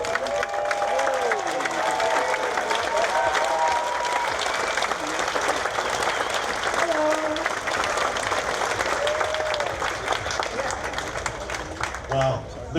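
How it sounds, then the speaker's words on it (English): A large festival crowd at an outdoor stage claps steadily and loudly for the whole stretch, with whoops, cheers and scattered shouting voices mixed into the dense, continuous applause, tapering slightly near the end. "Round of applause!"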